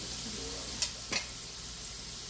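Stir-fried ramen noodles with shrimp and vegetables sizzle in a hot pan with a constant bright hiss, broken by two sharp utensil clicks.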